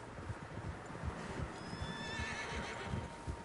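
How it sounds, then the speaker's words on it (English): Horses in the Red Dead Redemption game whinny, a high, wavering neigh rising over a bed of busy hoof clip-clops and shuffling, fairly close, no talk. "Horses, quite a few of them."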